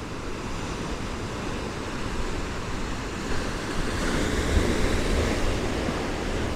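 Ocean waves and surf wash against the shore at a small fishing harbour with high cliffs on Fuerteventura, a steady broadband roar swelling slightly louder toward the end, with wind mixed in and no voices.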